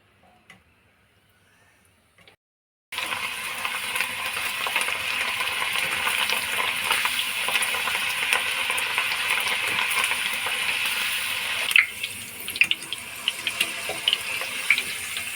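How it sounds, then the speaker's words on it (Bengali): Mung dal fries in hot oil as it drops through a sieve, a sudden loud, steady crackling sizzle that starts after a quiet moment and keeps going with small pops throughout. "এই তেলের উপরে একটা ছাঁকনি ধরলাম ধরে এই ডালটা দিয়ে দিলাম"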